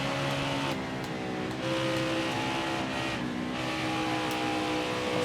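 Race car engines drone steadily in the NASCAR Heat 4 video game at Kansas, a constant, loud multi-engine whine with layered harmonic tones, no talking over it.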